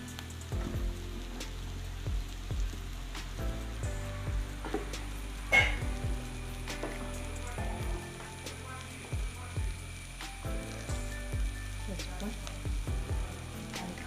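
Chili powder and ground coriander stirred and sizzling in a pan for a yam dish, a steady close fry with repeated scraping and clinking strokes of the spoon throughout.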